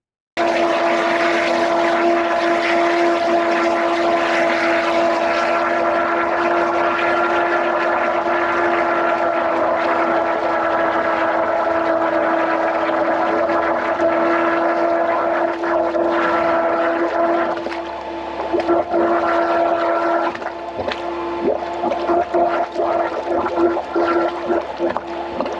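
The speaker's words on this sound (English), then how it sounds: "out of every jet I've ever used doing drainage, this is the best one for sound" A high-pressure drain jetter runs steadily up close, giving a constant loud whine with a steady hum beneath it and a slight change in tone partway through.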